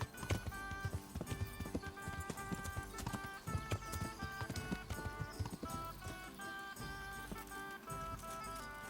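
Horse hooves clip-clop steadily and fairly close in Kingdom Come: Deliverance, a quick repeating beat of hoof strikes running throughout with no talk.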